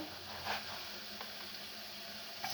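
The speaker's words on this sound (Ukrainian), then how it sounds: "цибулю додаємо. І теж її обсмажуємо до золотового кольору вже разом з часником." Onion and garlic frying together in a pan, a steady soft sizzle and hiss running throughout with a few slightly louder crackles, close by and alone without talk.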